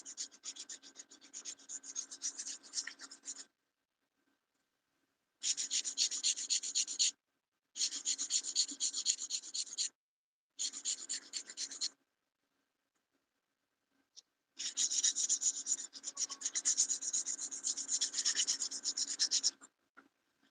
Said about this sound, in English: I am going to do the cuticle area with the drill